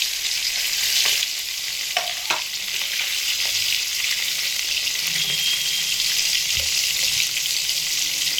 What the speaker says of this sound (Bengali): গরম তেলের মধ্যে এবার লবণ হলুদ মাখিয়ে রাখা মাছের পিসগুলো দিয়ে ভেজে নেব।